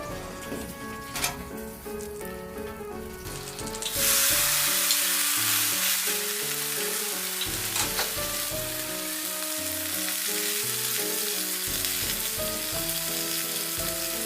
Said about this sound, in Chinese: 接着烤牛排，烤网的温度大约是300度。